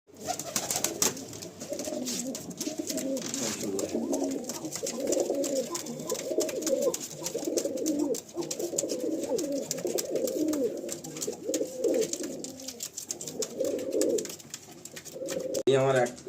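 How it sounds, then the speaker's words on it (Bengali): Pigeons coo continuously in a loft of Teddy-type breeds, layered throaty calls filling the space at close range, with a voice briefly speaking near the end. "এত সুন্দর লাগছে পায়রাগুলো এখানে দেখতে"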